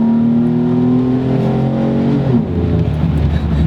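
A lifted Jeep Wrangler with a 3.8 liter V6 accelerates loudly and close by, its harmonic engine drone rising steadily in pitch before a gear shift drops the revs about two and a half seconds in.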